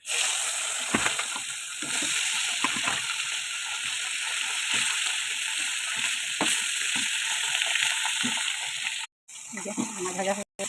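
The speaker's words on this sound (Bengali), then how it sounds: "সবকটা মাছ ভেজে নেবে।" Fish fry in a pan with a continuous, fairly loud sizzle and hiss, broken by occasional clinks and scrapes and one brief cut to silence near the end.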